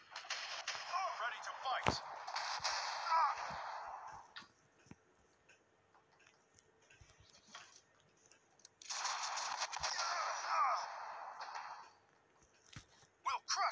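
Musket volleys ring out in the samurai battle game Shogun's Empire, in two separate crackling bursts of massed gunfire with a quiet gap between them. Short voiced unit commands are also heard.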